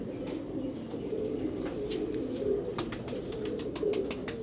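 Pigeons coo in soft, repeated low throaty calls close by, several overlapping rolling coos over a quiet background with faint rustling and brief flutters.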